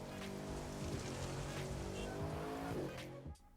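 A car engine in a racing video game, a Jaguar E-Type Champion Edition, drones steadily with a tonal hum and tire noise throughout, loud and continuous, then cuts off abruptly near the end.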